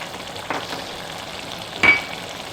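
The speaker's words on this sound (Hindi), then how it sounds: "अब हमने ये सारे मसाले डाल के अच्छी तरह से कीमे की भुनाई करनी है" Minced keema frying with ground spices, black pepper, crushed red chilli, green chillies and turmeric, heard as a soft, steady sizzle with a couple of brief stirring scrapes.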